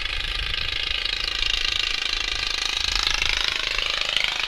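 Lawn tractors at an outlaw lawnmower racing event in Petrolia, Ontario roar off the start together, a loud, steady, rattling engine drone that holds for several seconds outdoors with no talk.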